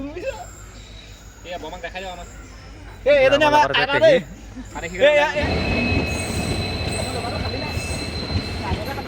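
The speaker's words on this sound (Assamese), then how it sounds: "এয়া ট্ৰেইন আহি আছে।" A train rolls in with a loud, steady rumble and screeching wheels, after a few voices and a brief tonal call.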